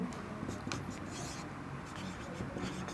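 Teacher writing on a board during a science class, soft continuous scratching strokes with faint background murmur of voices underneath.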